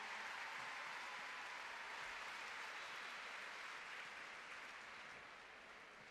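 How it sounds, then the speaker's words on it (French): Continuous broad applause from the crowd at an indoor show-jumping derby in an arena, a steady wash of clapping for a rider that fades slightly toward the end. "vous qui êtes là-bas au paddock et vous qui êtes ici, applaudissez quand même Fabrice Sainte-Marie"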